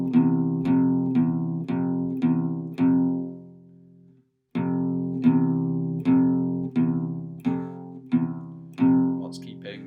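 An electric guitar plays the Ziggy Stardust F5 power-chord riff, repeated chord strums with decaying ring in two phrases split by a brief silence, close and clear.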